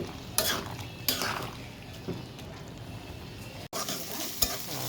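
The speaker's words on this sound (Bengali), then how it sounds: "চিংড়ি দিয়ে পেঁয়াজ দিয়ে নেড়ে চেড়ে ভেজে নিচ্ছি।" Shrimp and onions fry in a pan with turmeric, chili, ginger and garlic, stirred with a spatula. Sharp scraping knocks land every second or so over a steady, close sizzle.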